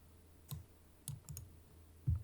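Mouse clicks while working in Ableton music software, four short, crisp taps spaced unevenly over about two seconds, close and fairly quiet with no talking.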